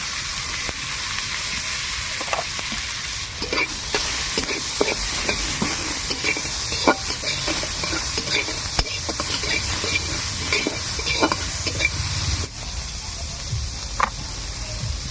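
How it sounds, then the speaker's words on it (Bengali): Nigella seeds and onions fry in hot oil with a constant close sizzle and hiss, punctuated by frequent spatula scrapes and taps against the pan. "এবার ওই তেলের মধ্যে আমি কালো জিরে ফোড়ন দিয়ে দিচ্ছি। দিয়ে পেঁয়াজ দিয়ে দেবো একটু বেশি করে"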